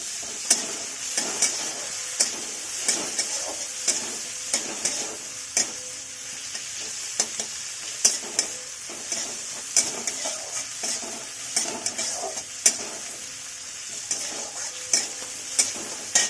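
Chopped onion and tomato frying in a pan while being stirred, a steady high sizzle broken by regular sharp scraping and tapping strokes of the spoon, close and fairly clear, with no talking.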